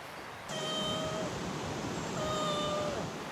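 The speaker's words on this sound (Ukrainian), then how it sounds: "О, кіт." A cat meows twice outdoors by a river crossing in the Ukrainian village of Synjak, two drawn-out cries about a second apart over a steady background hiss.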